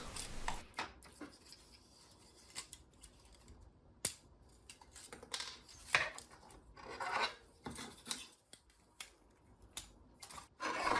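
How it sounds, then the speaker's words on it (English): Support material is picked and snapped off a freshly 3D printed frame, giving irregular close clicks, scrapes and small cracks with quiet gaps between them and no voices. "After removing print from the build plate, it's time to remove all of the support material."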